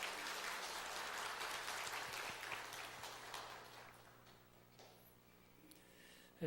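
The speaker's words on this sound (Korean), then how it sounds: "하나님께 우리 다시 한번 영광의 박수를 올려드립시다." Church congregation clapping during a Sunday service, a moderately dense round of applause in a reverberant hall that fades away over several seconds, fairly quiet overall.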